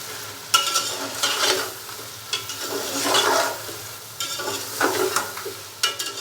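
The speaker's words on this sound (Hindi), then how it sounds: "चिकन को हम घी के अंदर तकरीबन 5 से 7 मिनट अच्छे से फ्राई कर लेंगे" Chicken pieces fry in hot ghee while being stirred with a spoon, giving a steady close sizzle punctuated by scraping, clattering stirs in bursts, with no talking.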